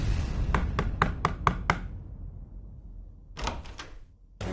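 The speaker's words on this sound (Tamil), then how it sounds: "யாரோ கதவு தட்டுறாங்க" Several sharp knocks on a door in a quick irregular series, then a pause and a second cluster of knocks, fairly close and clear over a quiet indoor room.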